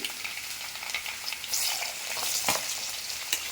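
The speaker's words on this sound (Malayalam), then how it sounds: "ചെറിയ ഉള്ളി, പച്ചമുളക് നന്നായിട്ടൊന്ന് ചൂടാവട്ടെ. നന്നായിട്ടൊന്ന് വതകണം." Garlic, shallots and green chillies sauté in a hot pan, a steady close sizzle with a few stirring scrapes and louder spikes as the pan is worked.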